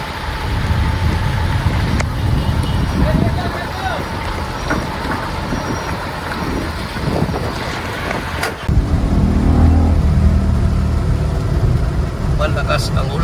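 A tow truck hauling a heavy loaded dump truck toward Valenzuela through heavy rain, its engine a steady low rumble mixed with rain and road noise, with a brief sharp air-brake-like burst midway and someone talking over it.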